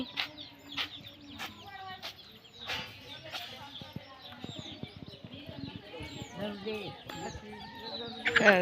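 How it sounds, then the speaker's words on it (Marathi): Chickens cluck and squawk close by with scattered chirps, while voices talk over them throughout. "ए कोंबडी लहान कोंबडी कोंबडी आली"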